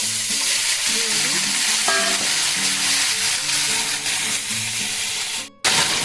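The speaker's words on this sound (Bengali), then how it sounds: "একটা শুকনো লঙ্কা ফোড়ন দিলাম, একটু জিরে দিয়ে দেবো কেটে রাখা" Dried red chili and cumin seeds crackle in hot mustard oil, a loud, steady close-up sizzle filling the whole stretch over faint background music, cutting out for an instant near the end before resuming.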